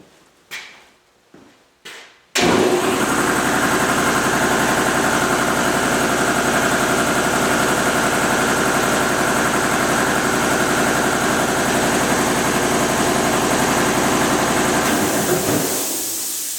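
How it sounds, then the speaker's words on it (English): An EMAX air compressor switches on after a few soft knocks and runs as a loud, steady, close motor drone with a constant hum for over ten seconds, then winds down at the end. "let me turn it on so you guys can see for yourselves how quiet it is"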